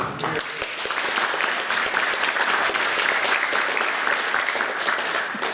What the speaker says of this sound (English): I think you all who contributed to that should get a good round of applause for that